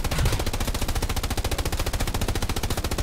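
Rapid, steady rattling bursts of gunfire from a tank in a video game, dense and loud without break over a few seconds, with no talk.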